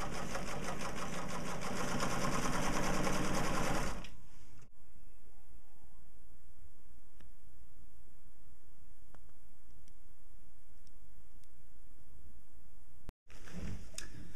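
A sewing machine stitches vinyl with strips adhered to its presser foot, running loud and steady for about four seconds before stopping, followed by a quiet room with faint ticks.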